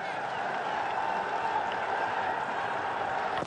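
Cricket crowd applauding a confident shot through the covers at an Under-19 Asia Cup match between Bangladesh and India, a steady, distant wash of clapping and crowd noise.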